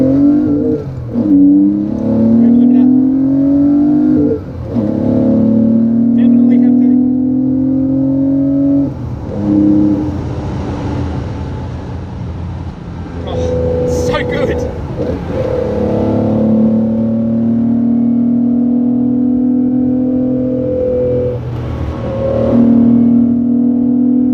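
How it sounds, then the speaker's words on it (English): A Porsche 911 2.8 RSR engine and exhaust droning loudly from inside the cabin, rising in pitch through repeated accelerations with brief dips between gear changes. "Okay, you can definitely hear the exhaust."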